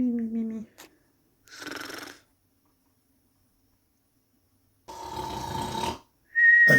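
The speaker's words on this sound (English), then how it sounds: "was obnoxiously snoring" A cartoon character snores obnoxiously in bursts separated by silence: raspy inhaled snorts and a whistling exhale, loud and close, with a high whistle at the end.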